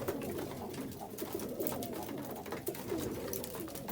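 Racing pigeons feeding in a loft give soft, layered cooing over a steady background of shuffling and pecking, fairly faint and with no talk.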